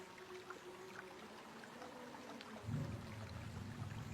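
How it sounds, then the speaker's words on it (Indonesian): Water is poured over a floor to rinse it clean. After a few seconds of faint background hiss, a sudden low, steady splashing rush begins and carries on to the end. "kita tinggal siram sekali saja"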